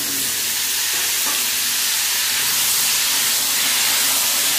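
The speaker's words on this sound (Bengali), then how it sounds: "এই মাছ ভাজা তেলের মধ্যেই কাঁচকলা আলু পেঁপে দিয়ে দেবো।" Raw banana, potato and papaya frying in oil left from frying fish, a loud, steady close-up sizzle with a couple of faint knocks from stirring early on.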